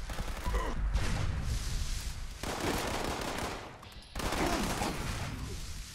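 An Ultracite laser rifle in the video game Fallout 76 fires in rapid sustained bursts, dense crackling energy shots separated by two brief pauses, loud and close.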